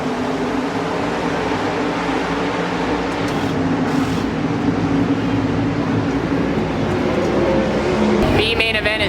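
Race cars running a heat race at the Eldora dirt track during the Kings Royal, a steady loud roar of engines that drones without a break, with a voice talking over it.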